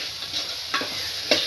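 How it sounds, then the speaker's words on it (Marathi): Maggi masala cooks in a hot pan with a continuous close sizzle, broken by a couple of brief stirring scrapes, and nobody talks. "बघा गाईज मस्तपैकी मसाला शिजत आहे."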